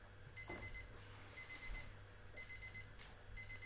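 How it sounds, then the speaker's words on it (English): An analog radio alarm clock goes off with a faint, repeating pattern of rapid beep bursts, roughly one per second, over a low steady hum. "The sound you might hear is my radio alarm clock."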